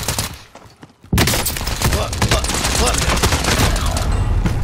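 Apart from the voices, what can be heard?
gunfire from enemies in a video game battle royale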